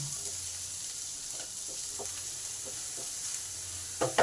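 Onions fry with salt in oil in a pan for a banana-flower paratha filling, giving a steady close sizzle with scattered spatula scrapes and a louder clatter of stirring at the end.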